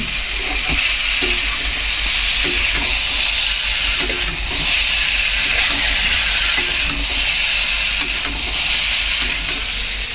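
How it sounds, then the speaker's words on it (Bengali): Vegetables sautéing in a pan with ginger paste, green chili paste, cumin and coriander, a steady loud sizzle and hiss with faint stirring scrapes throughout, no talk. "এবারের সঙ্গে আদা বাটা কাঁচা লঙ্কা বাটা দিয়ে জিরে ধনে দিয়ে কষে নিচ্ছি।"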